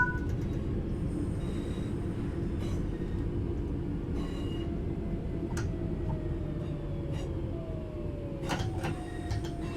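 Train braking in the Train Sim World 5 video game: a steady, loud rail rumble with clanks and a falling brake squeal near the end, with no speech.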